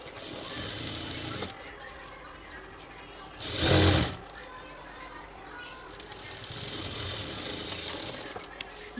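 A sewing machine runs in bursts as it stitches a jute bag, a whirring mechanical rattle at the start and again near the end, with a loud clunk midway and background chatter.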